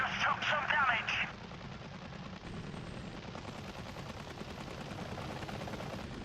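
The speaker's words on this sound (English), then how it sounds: "Hey, they're shooting at us." Automatic gunfire rattles steadily at an attack helicopter in the Apache Air Assault video game, mixed under engine drone and heard fairly quietly. A short burst of radio chatter opens the stretch.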